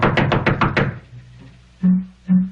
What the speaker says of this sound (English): there with Mr. Masters knocking on the door outside the Darling's room